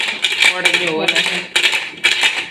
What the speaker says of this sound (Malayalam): ഇഡ്ഡലി പാത്രത്തിന്റെ കൈയിട്ട് അടിക്കുന്ന ഒച്ചയാണ്